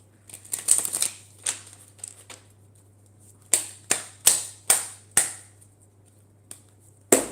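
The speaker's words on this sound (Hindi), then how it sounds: "cards are just flying from my hand" Tarot cards being shuffled by hand, heard as a flurry of crisp riffling snaps followed by a gap and then a run of five evenly spaced, sharp card slaps, close and clear over a faint steady hum.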